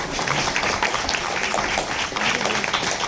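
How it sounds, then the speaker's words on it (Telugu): An audience at an academy annual day celebration applauds a Hanuman performer, dense sustained clapping filling the hall at close range with no pause. "హనుమంతుడిని కూడా మనం చల్లిట్టు చప్పట్లు కొట్టాలి."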